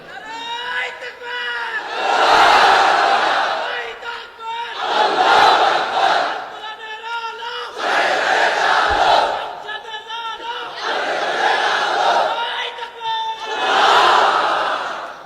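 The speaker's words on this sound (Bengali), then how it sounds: "তাকবীর পড়েন তো দেখি, আল্লাহর নামে পড়েন, লিল্লাহে তাকবীর" A large crowd at an Islamic religious gathering chants takbir in five loud, surging collective shouts, each rising and fading, with brief pauses between them.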